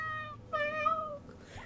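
A cartoonish cat meows twice in the video game Middens, with a short call followed by a longer, clear one up close over a low game background hum.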